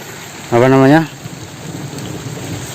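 Rain falls steadily beside a river, a constant close hiss of drops spread across the whole clip, briefly interrupted near the start by a short voiced sound.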